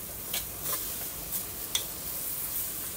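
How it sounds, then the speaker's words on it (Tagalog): Chicken sautéing in a pan for chicken tinola soup, a soft steady sizzle with a few light clicks and scrapes of stirring, close and fairly quiet with no talk. "habang ginigisa po natin ang ating chicken"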